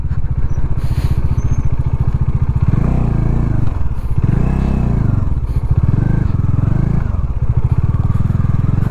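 A Bajaj Dominar fitted with an Xplorer touring kit rumbles at a loud, close, steady idle, its engine note swelling in a few revs, with wind buffeting and some clatter, and no clear talk.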